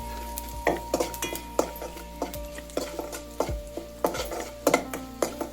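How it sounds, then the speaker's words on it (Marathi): A spoon stirs turmeric and chili powder into mango raita, producing repeated light clinks and scrapes against a bowl in an irregular rhythm, quiet and close, with no talking. "हळद, मिरची पावडर, आता हे सगळं ना चांगलं मिक्स करून घ्यायचं"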